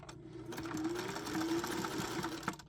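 A sewing machine stitches a seam in a fabric needlebook, a quiet close steady hum of rapid needle strokes running for a couple of seconds before stopping.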